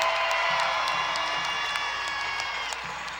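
A large basketball crowd at Scotiabank Centre in Halifax cheers and applauds steadily, a dense roar of voices and clapping with occasional whoops sustained throughout.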